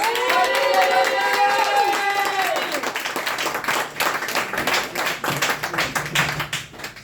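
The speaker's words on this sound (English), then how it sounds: "Please give another round of applause" A comedy-night crowd applauds for the act Gemma Day. Clapping rises beneath a fading tonal music sting, then continues as scattered, uneven applause with some crowd noise.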